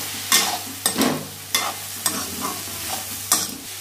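Cauliflower and pea kuruma is stirred in a pan, giving about six distinct scraping strokes in a loose rhythm over a soft, steady sizzle, close and clear with no talking.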